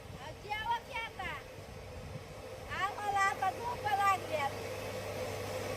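A motor runs steadily as a low, constant hum through the whole stretch, while people talk over it in a home setting.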